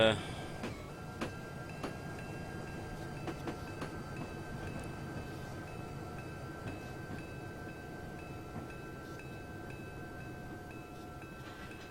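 A Union Pacific GP20 locomotive in Train Simulator 2015 rolls along steadily with a continuous rumble, faint clicks and tonal hums over the rails, with no pauses.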